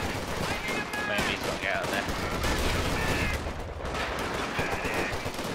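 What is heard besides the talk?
gunfire in video game Company of Heroes 2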